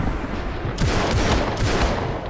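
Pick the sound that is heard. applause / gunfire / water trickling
gunfire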